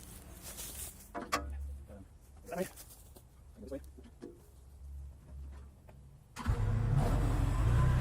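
A tractor engine starts up near the end, going from a quiet stretch with talking into a loud, steady mid-pitched running rumble close by.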